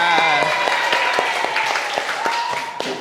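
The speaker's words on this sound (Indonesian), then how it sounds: "Kasih aplaus untuk kita semuanya." Clapping from a classroom group of students, a dense patter of many hands at close range over a steady crowd murmur, with voices mixed in throughout.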